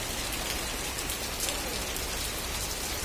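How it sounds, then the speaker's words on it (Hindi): Heavy rain pours at night outside a government hospital at a city circle in Udaipur, a dense, loud, unbroken roar of falling water with no voices. "चाटक सर्कल पर जोरदार बारिश होती हुई आपको दिख रहा होगा, ये कार की लाइट में।"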